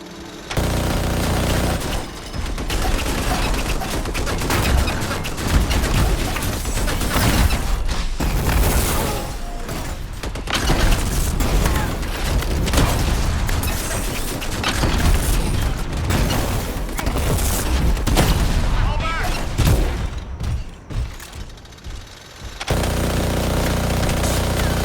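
Heavy sustained combat in the Anthem video game, autocannon and grenade launcher fire blending into a dense, loud wall of booms, bursts and explosions, continuous for over twenty seconds with a brief lull near the end.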